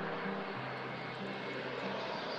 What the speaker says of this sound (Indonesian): tiba-tiba terdengar suara pesawat yang terbang rendah melintas